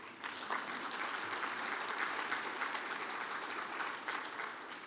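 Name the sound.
applause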